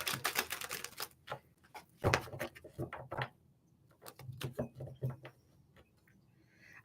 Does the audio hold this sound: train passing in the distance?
no